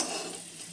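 Cloves frying in hot oil in a pan for a pea and potato kurma, a soft steady sizzle with faint stirring scrapes, close and continuous through a brief moment.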